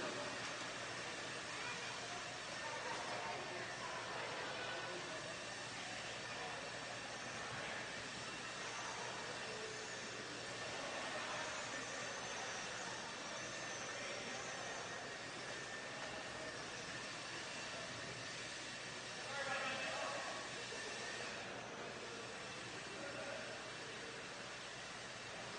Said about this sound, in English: Guys, blowers are still going.